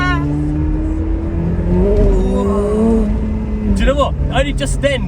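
McLaren 720S supercar revving hard with its wheels spinning on a wet road, a steady engine drone rising in pitch and then surging in sharp bursts near the end, with people talking over it inside the car.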